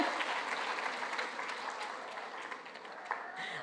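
A crowd at a Tamil speech event breaks into applause, a full, even wash of clapping that gradually thins and softens, with a few louder claps near the close.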